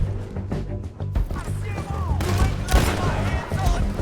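Gunfire from the video game Red Dead Redemption 2, several sharp shots cracking over a few seconds amid game noise, with voices shouting alongside.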